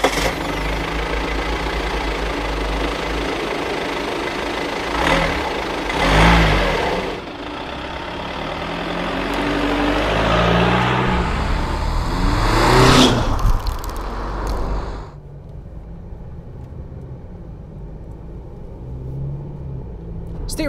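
An Alfa Romeo Giulia Super with a 2.2 diesel engine cranks and fires up, its loud rumbling idle and diesel clatter swelling into driving noise before the sound drops to a quieter, steady hum.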